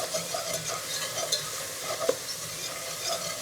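Cream and milk being whisked into a mushroom soup in a pot, giving a soft, steady stirring and sizzling texture with a few brief clinks of the whisk, close and fairly quiet.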